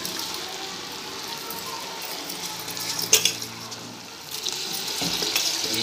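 Soaked seeraga samba rice being gently stirred into a pot of mutton biryani, a steady wet watery swish with a faint simmer, soft and continuous, with one brief clatter near the middle.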